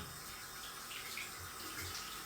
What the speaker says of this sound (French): Je veux me laver les mains.